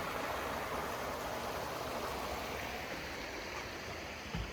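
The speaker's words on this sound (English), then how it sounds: "Hey, nice little bridge. A little water." Small stream on the Appalachian Trail flowing under a trail bridge, a continuous soft rushing and bubbling of water with no voices, steady and fairly close throughout.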